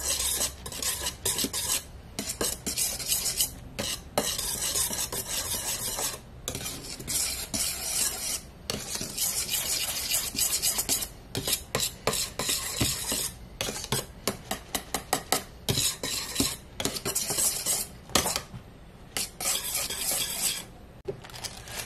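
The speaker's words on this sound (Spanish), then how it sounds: "Mezclamos perfectamente." Avocado popsicle mixture being stirred and whisked in a bowl, with steady scraping and clinking of a utensil against the dish, close and continuous for over twenty seconds with brief pauses and quicker taps near the end.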